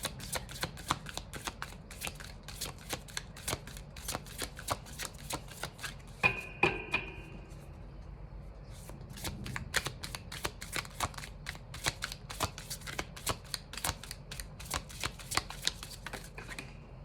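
Tarot cards being shuffled by hand in steady, rapid riffling bursts, close and clear, with a brief pause partway through and no talking.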